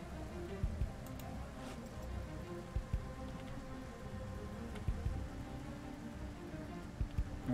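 Steady rain falls in the zombie survival game Project Zomboid, a soft even hiss with occasional faint ticks and drips, quiet and unbroken throughout.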